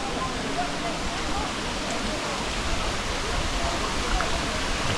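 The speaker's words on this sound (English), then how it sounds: "Here's a little better view of the river." River water flowing in Chefchaouen, Morocco, a loud continuous broadband rush of churning water, steady and close with no break.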